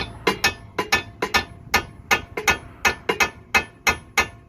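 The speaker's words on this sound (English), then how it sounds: "just put it at the end of the thread right there, and just whack it out very slowly" Hammer striking a punch to drive a stud out of the lower arm hub on a 2008 Mitsubishi Lancer, a brisk series of about twenty sharp metallic blows, close and loud, steady in rhythm, with no voice.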